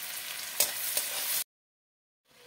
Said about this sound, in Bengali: দিয়ে দেবো কেটে রাখা পেঁয়াজ